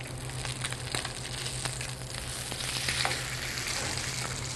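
Snapper fillet sizzling steadily in a hot pan as it is turned, a dense even frying hiss with small crackles and a faint scrape, with a low steady hum underneath.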